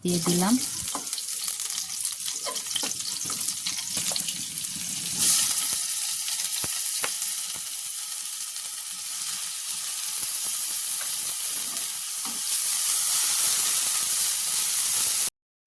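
Onions frying in a wok for a vegetable dish give a steady close sizzle with occasional stirring clinks and scrapes. The sizzle swells louder near the end.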